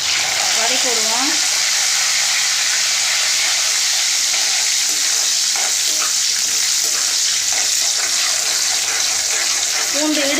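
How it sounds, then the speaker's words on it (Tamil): Garlic and curry leaves with mustard seeds sautéing in hot oil for a tomato thokku, a loud, steady sizzle with stirring scrapes throughout and brief voices over it. "நல்லா எண்ணெயிலே வதக்கணுங்க"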